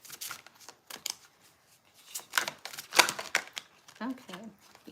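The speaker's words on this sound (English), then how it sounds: "every single time I try to shuffle and just get one card, I keep getting multiple" A new deck of playing cards being shuffled by hand, with quick crisp riffles and flicks in irregular bursts, close and fairly loud, between pauses.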